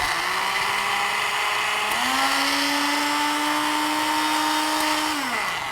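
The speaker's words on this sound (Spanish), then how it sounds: "procedamos a licuar entonces" A kitchen blender whirs steadily as it blends ingredients for a natural remedy, a loud continuous motor whine with a pitch shift partway through, alone and close.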